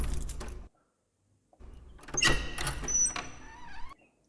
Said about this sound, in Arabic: ديال الباب كيتحل عجباتني هادي